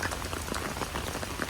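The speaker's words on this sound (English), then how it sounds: "it's raining now" Rain falling on a Brooklyn street, a dense steady patter of drops on hard surfaces, close and constant with no talk.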